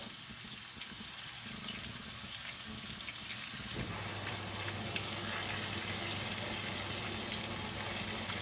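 Meat sizzles steadily as it fries in hot oil, a soft continuous crackle that grows fuller partway through, fairly quiet with no talking.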